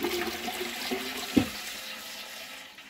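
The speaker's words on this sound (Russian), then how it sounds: "И слив пошел." A toilet flushes and water drains away, a brief gurgling rush with a sharp clunk midway, then fading to a quiet trickle, heard close without talk.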